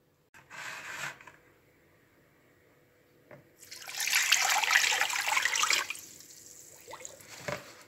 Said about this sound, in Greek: θα βάλω και 6 ποτήρια, νεροπότηρα νερό